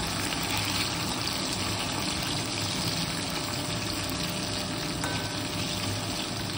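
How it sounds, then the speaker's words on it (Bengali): Potatoes fry in hot oil in a home kitchen, producing a dense, even hiss and crackle that holds steady throughout at close range, with no talking. "এখন আলু ভাজা হচ্ছে, এই দেখো আলু ভাজা হচ্ছে"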